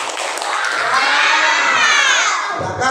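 A loud burst of classroom children cheering and shouting together with clapping, a dense crowd roar filling the room for a few seconds.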